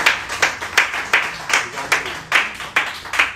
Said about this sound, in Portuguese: E quem está com o Senhor, dá uma salva de palmas